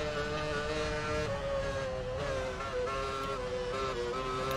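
F1 car engine in the F1 Championship Edition game on PS3 at the Australian track, a steady high-pitched whining drone with slight shifts in pitch, continuous and loud.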